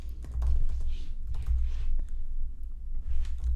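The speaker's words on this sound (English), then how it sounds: "you can type out an email address here" Computer keyboard typing while an email address is entered, a steady patter of close, quiet key clicks over a low room hum, with no talking.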